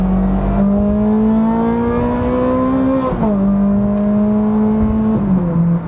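Ferrari 430 Scuderia V8 engine revving hard with exhaust valves open, a loud, close, sustained harmonic howl climbing in pitch, dipping twice at gear changes, with no talk over it.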